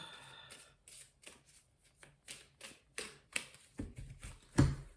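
A deck of Belline oracle cards is shuffled for a reading, giving a series of soft, quick riffling bursts close by in a quiet room, ending in a sharper tap.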